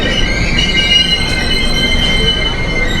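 An express passenger train rolls along the rails, heard from on board as a loud, steady rumble with high, sustained wheel squeal layered over it throughout.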